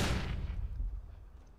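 A flashbang grenade goes off in the Counter-Strike: Global Offensive video game as a single loud, close burst whose rumble fades out over a second or so.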